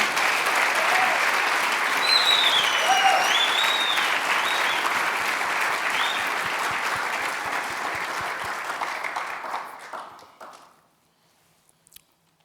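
Church congregation clapping in a sustained burst of applause, dense and steady for about ten seconds before fading out, with a few faint voices rising over it.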